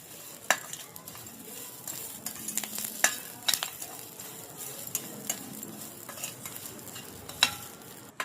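Curry leaves fry in a pan while being stirred, with a soft, low sizzle under repeated scraping and light knocks of a spatula against the pan, fairly quiet and close.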